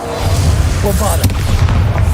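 A Bombarda spell explosion in Hogwarts Legacy: a short, loud blast over a steady rumbling game background, with a voice calling out around it.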